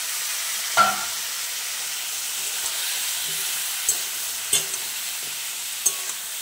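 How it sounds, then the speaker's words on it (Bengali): Vegetable stems with salt and chili powder fry in oil in a pan, giving a steady close hiss. A few light clinks of stirring break through the sizzle. "আর লঙ্কা গুঁড়ো। ডাঁটাগুলো একটু ভেজে নেব।"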